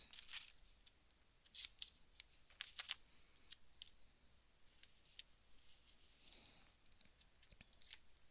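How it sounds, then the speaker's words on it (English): Scissors snip a small strip of paper with stamps in quick, crisp close cuts, clustered into irregular bursts with brief pauses, quiet and alone with no voices. "I'm going to cut a small strip right here."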